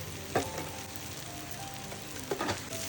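A vegetable curry of wild kadva flowers cooks on a wood-fired clay stove, sizzling steadily while two distinct stirring scrapes cut through the bubbling.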